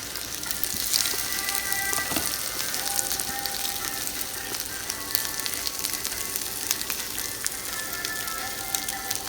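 Cinnamon egg-dipped French toast fries in a pan, a continuous fine crackling sizzle with dense popping, steady and close throughout.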